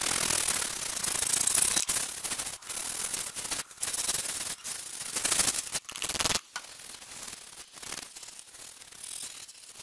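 A paintbrush scrubs a car wheel rim coated in Bilberry wheel cleaner, making close, rapid bristly scratching in uneven bursts with short pauses.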